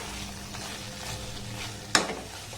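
A sweet mixture stirred and fried in a pan over a very low gas flame gives a soft, continuous close sizzle with gentle stirring, broken near the end by one sharp clack of a spoon against the pan.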